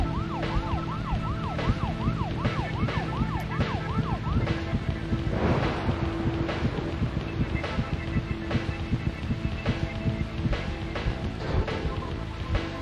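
A car siren in the video game Deadly Premonition Origins wails steadily in a rising-and-falling pattern at first, over a constant engine drone and game music that continue throughout.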